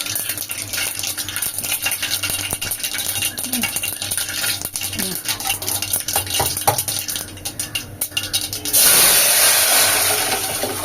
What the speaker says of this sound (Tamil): கடுகு தம்பருப்பு போட்டுக்கலாம்